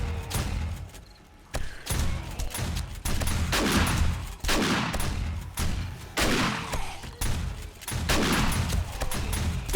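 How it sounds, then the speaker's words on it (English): Shotgun turrets firing at zombies during a large horde night in 7 Days to Die, a string of heavy booming blasts in uneven bursts with rumbling low thuds between, loud and continuous, with no talking. "dodging the shotgun rounds"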